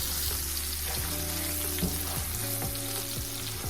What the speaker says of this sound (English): we're like sauteing here and it's sizzling like it should.